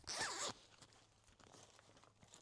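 A zipper pulled along a plastic storage bag with double zippers, one quick loud rasping zip in the first half second, then faint rustling and handling noises.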